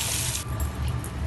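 Water is poured from a vessel into a pot of rice and moong dal for khichdi, giving a steady, close rushing splash with no talk.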